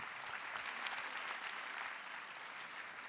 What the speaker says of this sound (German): Applaus für die Poetin und nicht für die Wertungen